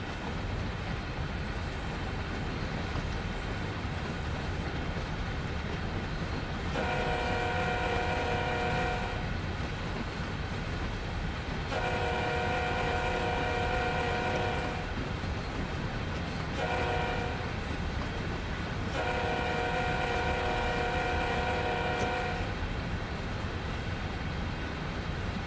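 Norfolk Southern heritage-unit freight train hauling many stone cars on a curve, rumbling steadily with a horn sounding in four blasts, the third short, over continuous rolling noise.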